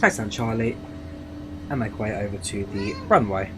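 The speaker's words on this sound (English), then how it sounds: "Why do you have any meow in the background?" A house cat meows several times in the background, short and fairly close, while someone talks over it in a room with a steady air-conditioning hum.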